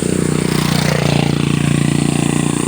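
A motorcycle engine runs close and loud with a steady, rapid pulsing drone throughout, with no talking.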